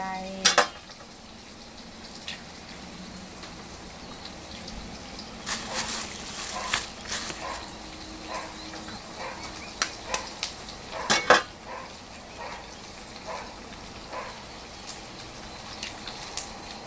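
Shallots stirred in a pan for a Thai stir-fried dish, with scattered metal clinks and scrapes of utensil on the pan over a quiet background, a few sharper knocks mid-way and near the end.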